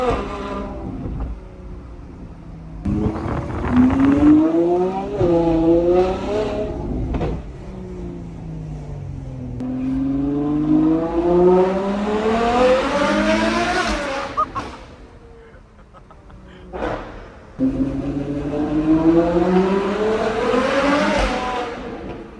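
Straight-piped A12 supercar engine revving hard on a ride along, loud rising and falling harmonic sweeps repeated several times with sharp crackling pops and brief lifts between pulls.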